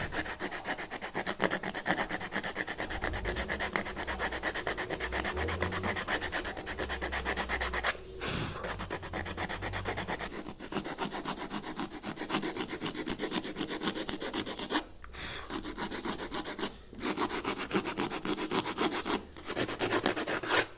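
A rasp files stone steadily while carving a molding, with rough, continuous back-and-forth strokes, broken by a few brief pauses; close and fairly loud, with no talking.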